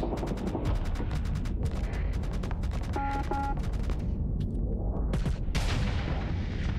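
Space combat in the video game Starsector sounds like a dense run of rapid weapons fire and booming explosions. Bursts of sharp shots give way to heavier blasts and a rising rumble near the end.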